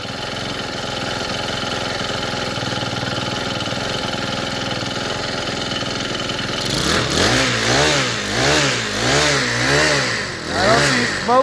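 Honda GX25 tiller engine, just repaired after failing to start or keep running, runs steadily up close, then begins surging in a rhythmic, wavering rise and fall for the last few seconds.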